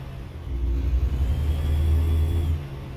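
A truck engine in American Truck Simulator rumbles low and builds as it accelerates, a steady loud drone that holds for a few seconds before easing off near the end, with no voices.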